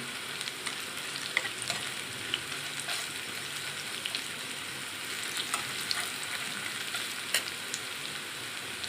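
Onions browning in hot oil with whole spices such as cinnamon, cardamom and cloves for a soybean chunk curry: a constant crackling sizzle with small pops and occasional stirring taps, even and close throughout.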